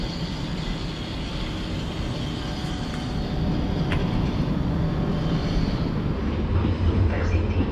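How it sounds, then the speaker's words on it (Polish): An old Koleje Mazowieckie passenger train riding near Warszawa Śródmieście, a loud, steady interior rumble and rattle of the carriage on the rails that grows slightly heavier midway. "Ale jadę starym pociągiem."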